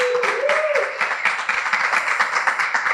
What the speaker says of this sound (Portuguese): eu quero uma salva de palmas com energia para o Wellington Boldrini